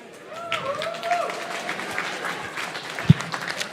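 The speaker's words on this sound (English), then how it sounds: "Can we go ahead and get a round of applause for League Meet 3?" Steady, moderately loud applause fills a FIRST Tech Challenge robotics league meet, with a few voices faintly mixed in and one sharp thump near the end.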